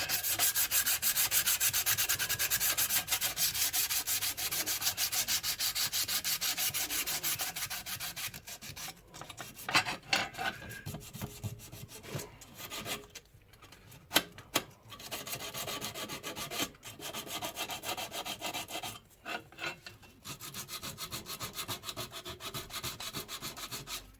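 Sandpaper rubs across the body of a Ford Cortina in steady, rasping back-and-forth strokes, close and continuous, broken by occasional pauses and knocks.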